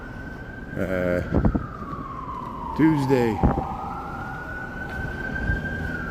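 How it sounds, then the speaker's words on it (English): An ambulance siren on a Chicago city street wails in a long sweeping tone that falls and then rises, loud and close. Brief talk breaks in twice, along with street noise. "Where's these sirens coming from?"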